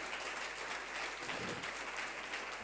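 A church congregation applauds, steady, dense clapping from many hands, moderately loud and continuous throughout with no break.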